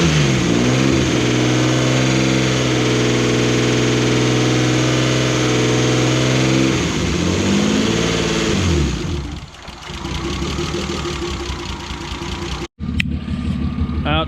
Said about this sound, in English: I'll just give her the old Italian tune-up, a couple third, fourth gear rolling burnouts up the street